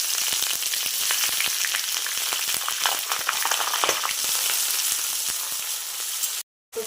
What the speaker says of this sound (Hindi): तो प्याज हमारा एकदम देखिए फ्राई हो चुका है